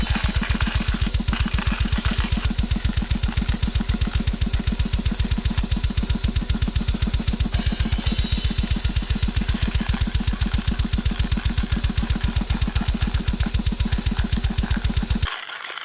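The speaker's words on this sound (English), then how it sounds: "This is a Hario Skirton hand grinder. They're good, they grind the coffee" A Hario Skerton hand coffee grinder is cranked while camping, making a rapid, regular grinding rattle of beans being crushed, each turn marked by close burr crunches, steady for about fifteen seconds before stopping.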